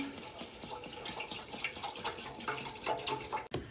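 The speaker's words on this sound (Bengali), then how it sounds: "সিক্স লিটার মল্ক নিয়ে নিছি দুধ দিয়ে দিলাম" Six litres of milk poured into a pot for chomchom sweets make a continuous close splashing, gurgling flow that wavers in strength. A brief sharp knock comes near the end.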